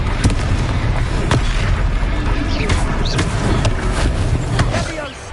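A Confringo blasting spell explodes during a boss fight in the Hogwarts Legacy video game, with loud booms and sharp bursts repeating over a dense, continuous battle din.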